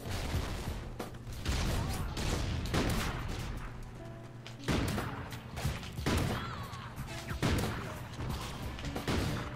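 Rapid gunfire from a video game shooter crackles in repeated bursts and single shots, loud and close, continuing through most of the stretch with no talking over it.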